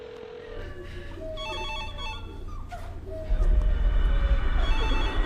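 A telephone rings repeatedly in a tense indoor scene, its tonal ring fairly clear over a low rumble and some background movement.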